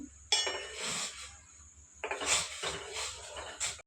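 A spoon stirs milk mixed with cornflour in a metal pot, giving a few bursts of clinking and scraping against the sides with short pauses between them, close by and with no voices.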